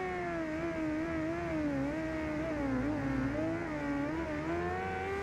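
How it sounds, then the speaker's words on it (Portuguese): A Honda Hornet motorcycle with a carbureted engine roars steadily in the Ride 2 racing game, its loud, sustained tone rising and dipping slightly with throttle changes and no voices over it. "Um lindo ronco dessa Hornet."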